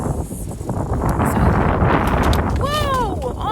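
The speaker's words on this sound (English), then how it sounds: "not only did it become super windy" Strong, gusty outdoor wind buffets the microphone in a garden during seed sowing, a steady close roar that swells midway, with brief high chirping tones near the end.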